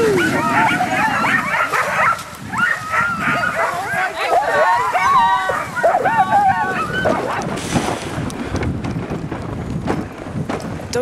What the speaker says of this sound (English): As soon as these dogs see the harnesses, they start caterwauling.